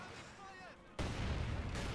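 Mortar fire and explosions from the Company of Heroes 2 battlefield, with a dense, loud roar of blasts and gunfire that erupts suddenly after a quieter stretch.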